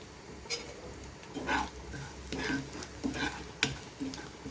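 Fish shena frying with chilli powder, coriander powder and turmeric in a pan, a soft, steady sizzle with faint stirring clinks and scrapes recurring every second or so, close and quiet.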